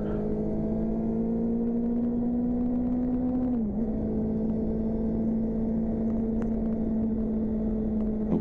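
A car driving on a road as it overtakes a Land Rover, its engine a steady close hum with a pitch that dips briefly mid-way, then settles and holds, with no talking.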